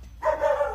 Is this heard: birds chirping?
no